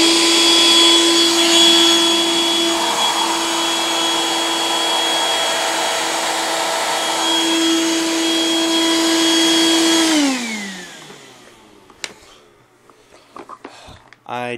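Eureka The Boss Super Lite vacuum cleaner running loudly in carpet mode with a steady motor whine for about ten seconds, then winding down as it switches off, followed by faint handling clicks.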